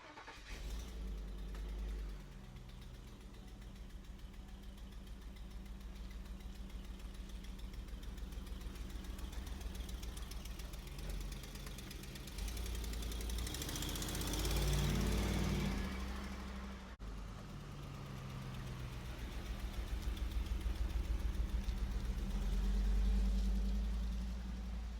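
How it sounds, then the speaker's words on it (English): A Ford Sport Trac engine idles with an exhaust manifold leak on the left side, giving a steady low rumble with a rapid ticking pulse throughout, heard up close, swelling slightly at moments and never stopping. "I realized I had an exhaust manifold leak on the left side."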